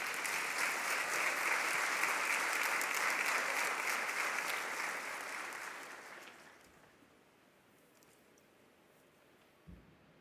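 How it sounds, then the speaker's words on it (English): Audience applause at a Vanderbilt School of Nursing investiture ceremony, a dense sustained clapping that fills the hall, then fades out after about five seconds to quiet room tone with a faint thump near the end. "Can we give him a round of applause?"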